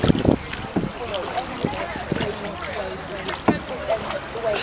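A punt is paddled through river water, with soft splashes and sloshing under steady wind noise and voices nearby.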